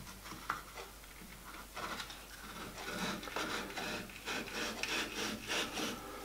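Steady metallic rubbing and scraping as a cylinder for a 5-inch gauge miniature Lion steam locomotive is lapped with WD-40, a continuous back-and-forth grinding texture at moderate level, close by, without speech.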